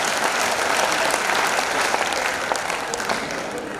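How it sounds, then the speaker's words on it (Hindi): A hall audience at a Hindi comic poetry gathering in Mewar claps with both hands raised, a dense, steady roar of applause that carries on for several seconds with no speech over it. "पूरा सदन दोनों हाथ उठा के ताली बजाओ"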